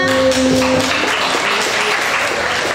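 A crowd at a Mother's Day gathering claps loudly and continuously, a close, dense wash of applause with a brief voice near the start.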